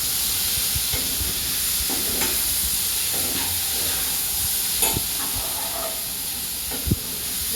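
A tempering poured into sambar gives a constant hissing sizzle, bright and steady, with a few faint clicks and taps of a utensil near the end, and no talk.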